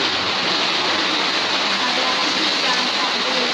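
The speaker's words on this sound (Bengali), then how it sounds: "অনেক জোরে অনেক জোরে বৃষ্টি হচ্ছে।" Heavy rain pours steadily at night onto a rooftop in Bangladesh, a dense, continuous hiss with no break, close and loud throughout.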